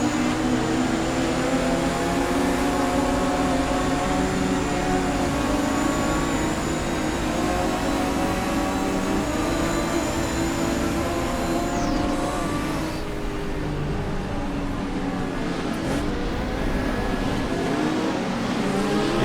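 Twin-turbo Porsche 935 race car in Assetto Corsa EVO, engine roaring loud and close through sustained high-rev acceleration, with a sharp gear change partway through before it pulls hard again, no talking.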